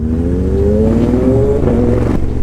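A big bike motorcycle engine revs up close and loud, pitch climbing steadily for about two seconds before easing off.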